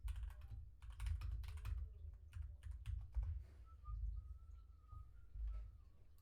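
Fingers type quickly on a computer keyboard, a close run of crisp clicking keystrokes in bursts, followed by a faint whistle-like tone and quieter pauses.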